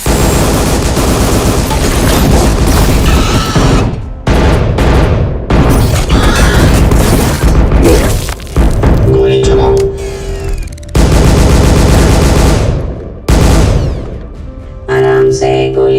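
Loud, sustained gunfire and booming blasts in a Hindi-dubbed action film scene set in the desert, dense and continuous with brief gaps, while voices speak over it.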